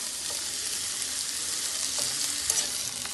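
Flat beans stirred with potatoes and tomato frying in a pan, a continuous bright hiss of sizzling oil with soft scraping stirs and a few light knocks.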